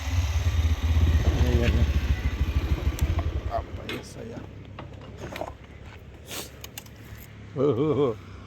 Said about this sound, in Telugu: బళ్ళు బాగా వస్తున్నాయి మొత్తానికి